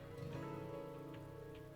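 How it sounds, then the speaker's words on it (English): Steady rain falls in the visual novel game The Fruit of Grisaia, a soft, continuous patter with occasional drops over a low background hum, no one speaking. "we're left listening to the rain once more"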